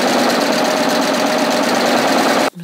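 A serger sewing machine stitches fabric for a reverse flatlock, running loud, fast and steady with a dense mechanical whir close up, then stopping abruptly just before the end; no talk.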